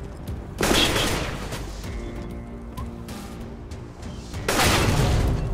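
Rapid automatic AK rifle fire in the video game CS:GO comes in two loud, sustained bursts separated by a quieter stretch of in-game background sound.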